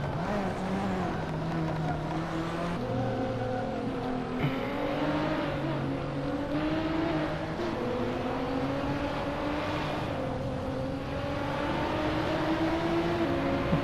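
A Ferrari F40 race car launches and accelerates in a race. The engine pitch climbs through several gear shifts with other cars' engines mixed in, loud and close, and no one speaks.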